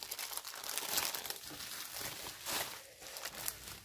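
Bubble wrap packaging is handled and unwrapped after the tape is pulled off, a continuous close crinkling and rustling with a few sharper crackles.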